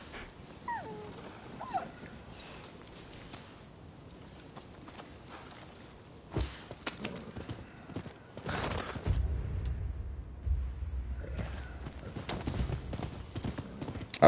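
Video game horse hooves clip-clop unevenly over a quiet background, with a few scattered thuds and a low rumble later on.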